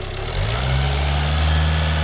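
A Volkswagen Caddy being repaired for a water leak has its engine revved in a workshop: a loud, close, low engine drone that rises in level early on and then holds steady, with no talking.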